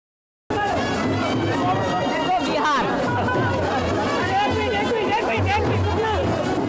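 Large crowd in Patna chattering, a dense continuous babble of many voices with shouts rising over it, steady and close from start to finish after a brief silent opening.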